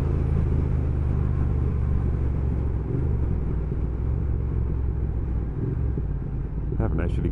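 Triumph Thruxton R motorcycle engine pulling hard under acceleration, a loud continuous low rumble heard close up, rising briefly near the end.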